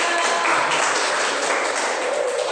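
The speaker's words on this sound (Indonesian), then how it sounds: "tepuk tangan dong buat teman-teman" Classroom applause from students for their classmates, a dense burst of many hands clapping steadily for a couple of seconds.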